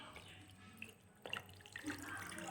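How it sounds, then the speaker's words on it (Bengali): Water poured into a cooking pot of home-style chicken curry, a faint splashing gush that starts midway and trickles on, quiet and close with low background noise. "তো এই জলটুকু আমি দিয়ে দেবো"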